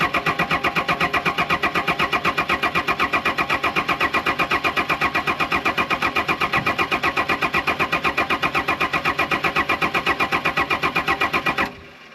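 A Daihatsu Fourtrak diesel engine being cranked cold by its starter, with a loud, fast, even chugging rhythm that runs for about twelve seconds and stops abruptly without the engine catching.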